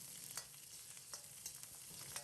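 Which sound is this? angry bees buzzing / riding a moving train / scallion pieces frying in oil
scallion pieces frying in oil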